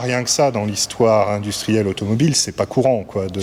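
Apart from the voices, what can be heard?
None of the usual background noises is heard.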